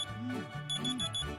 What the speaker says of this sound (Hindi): मेरा अलार्म दोबारा बजा